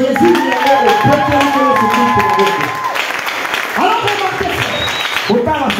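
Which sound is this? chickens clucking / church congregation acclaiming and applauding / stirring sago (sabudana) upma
church congregation acclaiming and applauding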